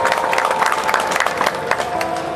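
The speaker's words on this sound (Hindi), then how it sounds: "जोरदार तालियों के साथ इसका स्वागत किया जाए।" Applause from a crowd at a qawwali programme at a dargah urs in Mahad, welcoming a garland presentation; dense continuous clapping, loud and steady throughout.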